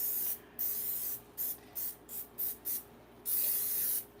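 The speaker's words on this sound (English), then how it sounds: "We're using some just regular old baking spray." Baking spray hisses from a can into cupcake pans in a series of short bursts, one longer spray then several quick pulses and a final long one, close and clear in a quiet kitchen.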